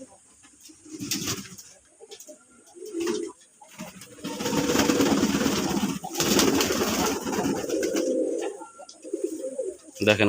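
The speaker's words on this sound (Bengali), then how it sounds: "কবুতরগুলোকে গামলায় পানি দিয়েছি বলে এবং ওরা গোসল করতেছে" Pigeons coo steadily while bathing in a water basin, low throaty calls repeating close by with some splashing and movement, no talk heard.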